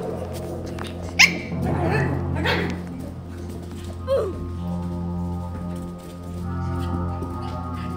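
A dog barks and whimpers indoors, a few short yips and whines over steady background game music and electronic tones, with a sharp bark near the start.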